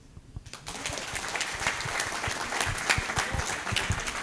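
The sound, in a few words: audience applause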